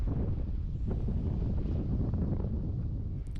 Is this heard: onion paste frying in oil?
no